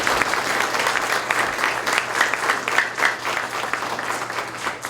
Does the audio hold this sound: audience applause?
yes